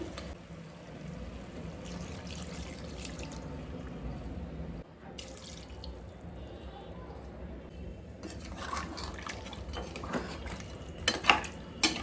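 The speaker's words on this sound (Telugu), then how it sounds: "ఇప్పుడు వాటర్ వేసుకుందాం" Water goes into a pan of oil-fried goat head meat for a curry, producing a steady wet rushing with drips, stirring and metal clinks that grow busier and louder toward the end.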